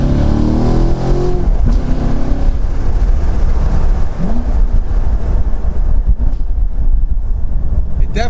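A C7 Corvette fitted with an AWE catless X-pipe exhaust revs and pulls up through the RPM range, a loud rising engine note heavy with wind noise, with someone talking over it.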